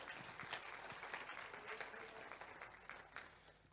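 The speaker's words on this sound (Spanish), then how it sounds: "aplauso al Señor" Congregation at a bilingual church service applauding the Lord, a quiet, steady round of clapping heard from a distance with some murmuring mixed in.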